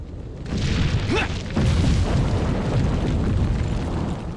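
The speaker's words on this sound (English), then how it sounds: "Actually, I think they just pushed this rock over." A large rock is pushed over in Resident Evil 4 (2005), a heavy rumbling boom that starts abruptly and rolls on continuously, loud and close, with no speech over it.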